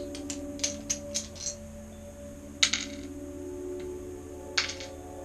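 Big dice tumble across a tabletop during a tabletop roleplaying game, leaving a quick run of bright clattering ticks followed by two later separate clacks, close and fairly crisp over a faint steady hum.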